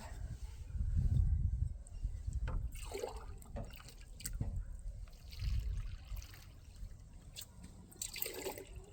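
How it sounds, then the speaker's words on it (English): Water pours into a bucket to mix mortar for laying block, an uneven trickling and splashing that swells and eases in several surges, fairly quiet and close. "So now I'm going to put 4 quarts and 1/4 of a quart of water into here to mix it up."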